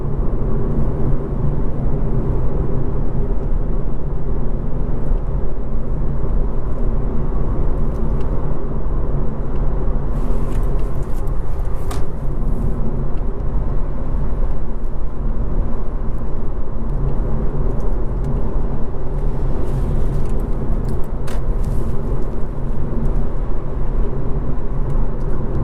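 A car climbs a mountain road toward about 4,000 feet near Baxter, heard from inside as a steady, loud engine and road rumble with no breaks throughout.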